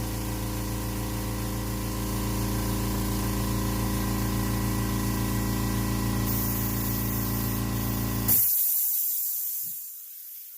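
Airbrush spraying True Fire paint onto a tumbler, a steady close hiss of air and paint that runs unbroken for about eight seconds, then cuts off abruptly into near silence.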